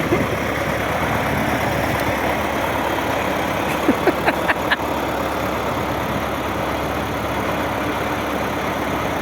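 A tractor engine idles nearby with a constant low rumble throughout, with a few faint clanks partway through and no talking.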